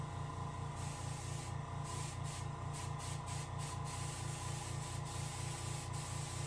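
An airbrush hisses steadily while spraying paint onto a rainbow trout for taxidermy, a faint continuous spray with a rhythmic low pulsing from the compressor beneath and short gaps where the trigger eases off.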